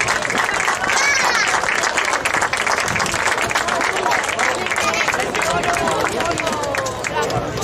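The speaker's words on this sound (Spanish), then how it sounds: "Un fuerte aplauso para ellos." An audience at a handball trophy ceremony applauds with loud, dense clapping mixed with crowd hubbub and some whistling or cheering, continuous throughout.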